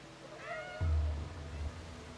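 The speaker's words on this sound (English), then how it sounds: "Oh my god, I love the meowing." Cat meowing in the video game Stray, with a thin high meow followed by a louder low rumbling tone, heard close against a quiet game background.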